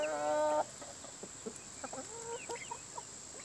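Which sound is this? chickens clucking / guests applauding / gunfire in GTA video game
chickens clucking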